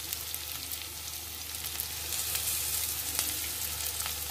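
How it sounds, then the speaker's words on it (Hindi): Grated ginger fries with sliced onions in a pan for a halwai-style potato and cauliflower curry, giving a steady close sizzle and crackle that swells slightly halfway through, with no voices. "इसका बस टेस्ट चेंज हो जाए कि अदरक का कच्चापन निकल जाए, इतना बस हमें भूनना है"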